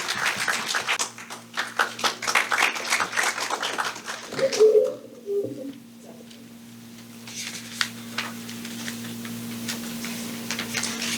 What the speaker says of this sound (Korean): 우리 박수로 환영해 주시겠습니다